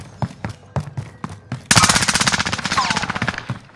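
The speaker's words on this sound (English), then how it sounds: "Oh wow, fucking hit markers with the SMG." SMG fire in Call of Duty Warzone: a few separate loud shots, then a long rapid burst close up that dominates everything else.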